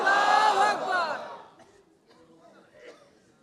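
A crowd roars back a loud, harmonized takbir chant in answer to a preacher's Nara-e-Takbir call at a Bangla religious sermon gathering. The shout swells strongly at once, then fades into quieter murmuring within about a second and a half.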